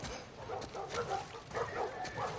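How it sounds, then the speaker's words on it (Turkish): Dogs bark several times in The Last of Us Part II on PS5, the short yips and barks fairly faint and distant under a steady ambient game background. "Köpekler. Bunların köpekleri vardı."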